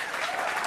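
Short burst of steady clapping from a small group, close and dense, with no voices over it.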